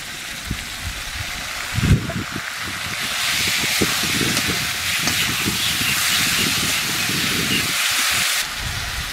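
Ginger and green-red chili paste hitting fried vegetables in a hot pan, a continuous loud hissing sizzle with scattered crackles throughout.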